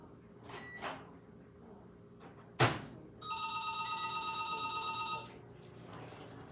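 A telephone rings for an incoming call, a steady electronic warble lasting about two seconds after a sharp knock, fairly close in a quiet room.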